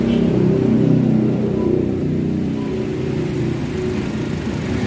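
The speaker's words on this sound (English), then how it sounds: "Kenapa mesin harus nyala om?" A car engine idles steadily with a low, even rumble at a service shop during a battery change, slightly louder at first and then settling, with no talk over it.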